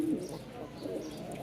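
Domestic pigeons in a loft, Bengali breeds kept for sale such as Rajshahi Giribaz, cooing softly with low murmuring calls, close and fairly quiet, a steady background of flock sounds throughout.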